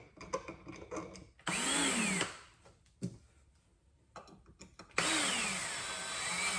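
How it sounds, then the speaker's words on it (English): A power drill tightens bolts on a dining chair during assembly. Two whirring runs rise in pitch, with quieter clicks and handling noise around them. "I'm just going to tighten these up where that there's not any slack left there."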